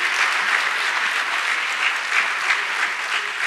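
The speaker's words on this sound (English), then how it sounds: "can I have a really loud round of applause for Abhang Repost?" Dense, even applause from a literary festival crowd after a stand-up comedy set, many people clapping continuously at a steady loud level.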